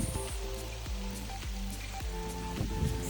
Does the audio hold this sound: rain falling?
yes